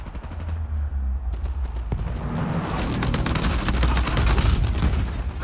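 Gunfire in an Uncharted 4 multiplayer ranked match, dense rapid bursts of shots building louder toward the end, a continuous rattling fusillade up close with no talking.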